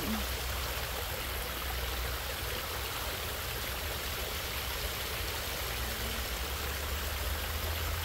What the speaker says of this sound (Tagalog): Pakita ko sa inyo ang magandang waterfalls dito.